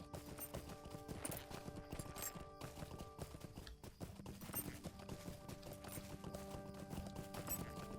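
Rhythmic clip-clop of a horse or pony galloping in Lord of the Rings Online, quick repeated hoofbeats layered over game music and ambience, with a faint whinny.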